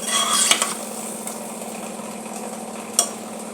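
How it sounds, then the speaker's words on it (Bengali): A metal pressure cooker lid clanks shut over rice and water in a home kitchen, with a clatter near the start and a second sharp knock later against a steady low hum. "দিয়ে এবার আমি কুকারের ঢাকনাটা মেরে দেব।"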